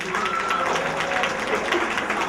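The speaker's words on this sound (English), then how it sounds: "please give the staff a round of applause for the job" An audience at a school family night claps for the staff, a dense, steady wash of applause from many hands that holds evenly throughout the short stretch.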